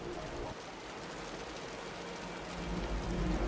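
Heavy rain pours in the video game Wuthering Waves, a dense, constant hiss of falling water that swells slightly louder toward the end, with a faint low rumble beneath; no speech.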